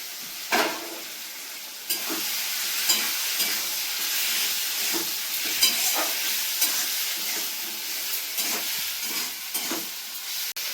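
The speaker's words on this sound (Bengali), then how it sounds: "এই দেখো মশলার মধ্যে আলুগুলো দিয়ে ভালো করে একটু কষিয়ে নেবো" Potatoes stir-fried in spice paste in a pan give off a steady sizzle and hiss, punctuated by regular scraping and clanking of a spatula, no one speaking.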